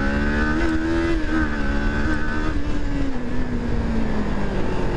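A 2023 Kawasaki Ninja 400 KRT sport motorcycle accelerating hard: a loud, continuous buzzing engine note with rushing wind, its pitch holding high and then easing slightly downward; no talking.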